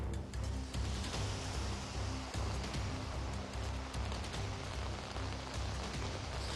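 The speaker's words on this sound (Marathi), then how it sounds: "गेल्या 3 दिवसांपासून पावसाची संततधार सुरू आहे" Heavy, continuous monsoon rain falls on Mumbai under an orange alert. It makes a dense, steady hiss of drops hitting surfaces with a low, rumbling undertone, and no one speaks.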